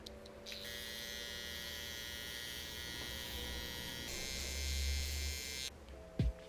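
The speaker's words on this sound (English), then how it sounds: "Now I'm gonna remove the hair on top of my cheeks with my trimmer" An electric beard trimmer buzzes steadily while it removes hair from the upper cheeks, a close, continuous hum that deepens briefly as it presses against the skin, then stops with a short clatter.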